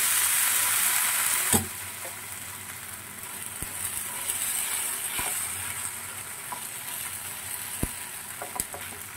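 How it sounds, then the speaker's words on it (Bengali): Breakfast batter fries in a little oil over low heat, giving a steady close sizzle with a few faint clicks and taps over it. No one speaks. "গ্যাসের আঁচটা কমিয়ে দিয়ে এবারে আমি আস্তে আস্তে এগুলো ভেজে নেব।"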